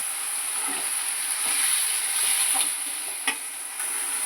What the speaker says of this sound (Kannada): ಇದು ಈಗ ಫ್ರೈ ಆಗ್ತಾ ಇದು ಬೆಂದಿತಾ ಇದೆ